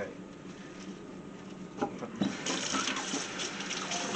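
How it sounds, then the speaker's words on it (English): A cold-water kitchen tap runs to rinse pork tenderloin, starting quietly and swelling into a steady gush partway through, with voices under it. "you want to rinse your meat with cold water"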